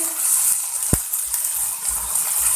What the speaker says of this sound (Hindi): 1 मिनट के लिए फ्राई कर लेंगे